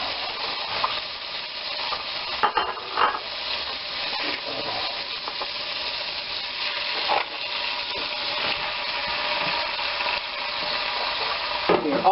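Ground beef sizzles steadily in a hot pan for stroganoff, a loud continuous frying hiss with occasional stirring scrapes and small pops throughout.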